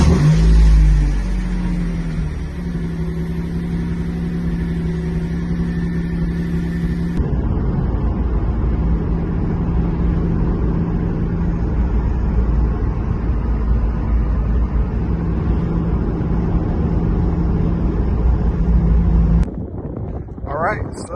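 A 1993 Mitsubishi 3000GT SL on a test drive after new brake hoses, its engine droning steadily with a gear change early on, road and wind noise throughout, and a brief shift in the sound near the end.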